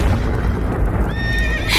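Horses whinny over a dense rumbling background in a cartoon story, the shrill neigh rising toward the end and loud against the noise.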